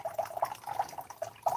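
Water drips from a backpacking water filter in small, irregular, faint plops, about a handful over a second and a half, against a quiet background.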